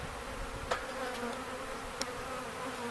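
Agitated honeybees buzz steadily at an open hive being worked, a close, even drone broken by two brief clicks.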